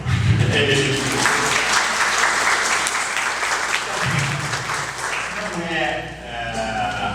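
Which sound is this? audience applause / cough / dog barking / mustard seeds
audience applause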